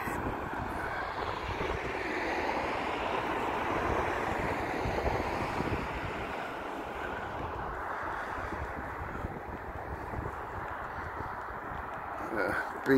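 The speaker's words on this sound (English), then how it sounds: "It's a bit breezy." Strong sea wind and breaking waves along Blackpool's North Promenade in the early morning make a steady, loud broadband roar that lasts throughout, gusting slightly, with no talk heard.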